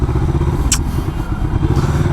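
A Himalayan 400 parallel-twin motorcycle of about 39 bhp rumbles under way, its engine steady and close with a brief clatter partway through.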